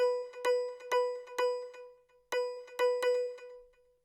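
A simple, robotic pattern from the Harmor synth in FL Studio, with short bell-like plucked notes in a steady repeating rhythm, clear and alone with no talking.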